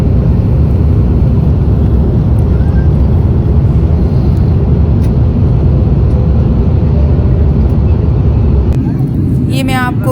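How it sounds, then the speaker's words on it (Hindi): Inside an airplane in flight over Jeddah, a loud, constant cabin roar of engines and rushing air that holds steady throughout, with a voice briefly heard over it. "जहाज़ परवास कर रहा है।"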